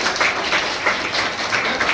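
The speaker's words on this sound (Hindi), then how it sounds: "आप लोग जोरदार ताली से उनका स्वागत करें।" An audience at a tuition class's new Class 12 batch applauds a teacher, a steady, dense patter of many hands clapping together nearby.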